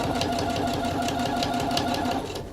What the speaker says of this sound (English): We're going to do a back stitch and continue to the next corner.